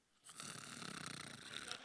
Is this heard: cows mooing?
no